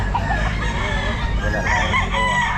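Bull stag rooster at a crowded pet market, with steady clucking and crow-like calls rising over a constant background hubbub, several birds heard close by.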